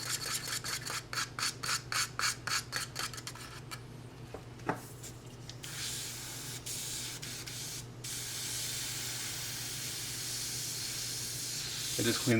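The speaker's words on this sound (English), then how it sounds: "I just cleaned this airbrush, so it should spray pretty good." A freshly cleaned airbrush sprays thinned paint for a 1/4 scale Deadpool figure. It starts with a quick series of short hissing bursts, then settles into a long, steady spray hiss that pauses briefly and resumes.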